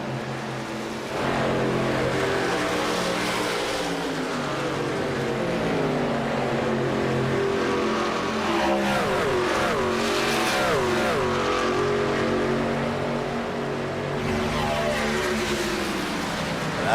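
Race trucks of a contender series circling an oval track, engines roaring loudly and continuously with rising and falling pitch as they pass, several vehicles overlapping, while an announcer talks over the noise.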